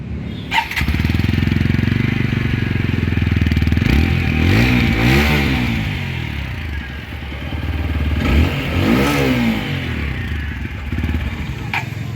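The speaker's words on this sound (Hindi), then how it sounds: "तो ये तो हो गया अपाचे का एग्जॉस्ट नोट" A 2022 TVS Apache 160 4V motorcycle exhaust idles with a deep, bassy rumble, then revs sharply twice, the pitch climbing and dropping each time, loud and close.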